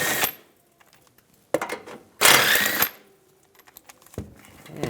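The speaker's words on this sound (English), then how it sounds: "Now we're going to take these 2 bolts off," Ratcheting socket wrench working two bolts off a 2015-2020 GMC Yukon XL with a 15mm socket, giving short bursts of metallic clicking and rattling separated by quiet pauses, close and fairly loud.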